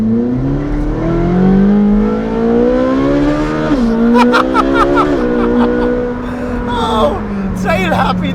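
A Ferrari 458 Speciale fitted with a Novitec exhaust revs hard from inside the cabin, a loud, rising howl that drops sharply on gear changes and then climbs again, with crackles on the overrun, while the driver exclaims over it.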